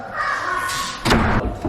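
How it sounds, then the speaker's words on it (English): An indoor door at an ice rink is pushed shut with a single loud, close thud partway through, after a stretch of steady background noise. "you gotta close the door"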